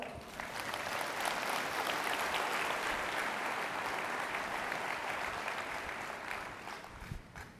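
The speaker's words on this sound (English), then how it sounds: "How about a round of applause for NEVA?" An audience at a corporate presentation event breaks into sustained applause, a steady, even wash of many hands clapping for several seconds before it tapers off.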